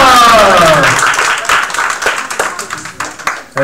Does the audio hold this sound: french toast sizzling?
no